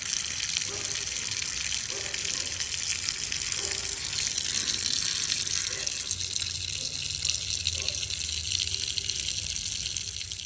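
Clothes being washed by hand under running water on a rooftop, a steady gushing stream with soft intermittent splashes and sloshing as fabric is handled.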